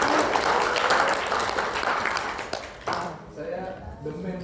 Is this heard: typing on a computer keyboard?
no